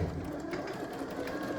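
A Janome sewing machine stitches steadily, a continuous close mechanical whir with a fast even rhythm, heard alone for a short burst.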